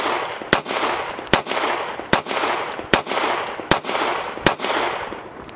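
Kimber Pro Carry II .45 ACP 1911 pistol with an aluminum frame fired at a range: seven loud, sharp gunshots spaced evenly about a second apart, each ringing out between shots.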